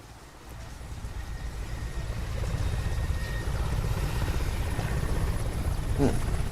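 A helicopter in a rainy scene from the film Sputnik gives a low rotor rumble that swells steadily louder and nearer, with faint voices underneath.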